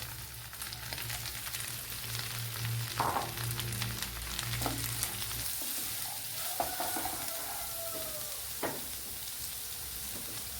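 Two medium chopped onions sizzle steadily in hot oil with fresh curry leaves, a continuous broadband frying hiss broken by occasional stirring scrapes and clinks, with no talking.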